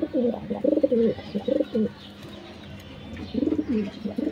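Pigeons in a backyard loft give repeated throaty coos in two bursts separated by a quiet pause, near and fairly loud, with no voices.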